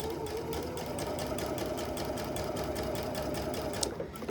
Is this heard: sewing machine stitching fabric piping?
yes